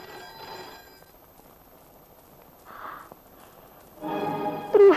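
An old telephone bell rings in a 1970s Hindi thriller scene, a short burst early on and a louder, fuller ring near the end against a quiet room.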